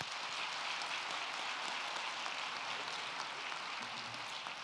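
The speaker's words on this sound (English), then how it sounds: "Please give your colleagues a hand of applause for the wonderful," Sustained applause from a keynote audience at a university task force conference, a steady, dense wash of many hands clapping that holds evenly throughout with no voices on top.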